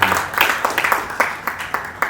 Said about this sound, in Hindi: जोरदार तालियों से इनका स्वागत करना चाहिए